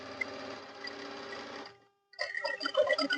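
Sewing machine running a double stitch along the seam of a straight-cut pant: a steady close whirring run for about a second and a half, a brief pause, then a busier, louder burst of stitching.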